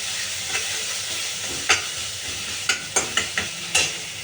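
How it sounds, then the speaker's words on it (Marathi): A spiced paste is fried in a pan for green pea and potato patties, giving a steady loud sizzle broken by several sharp clinks of a spoon against the pan. "आपल्याला तिखट हवं असेल तर जास्त टाकू शकतो आपण हे चांगलं फ्राय करून घेऊया"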